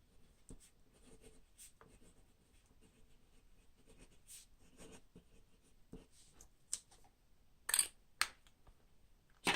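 A Faber-Castell Lume fountain pen with a medium nib scratches softly across paper in quiet, irregular strokes, with a few sharper taps and rustles near the end.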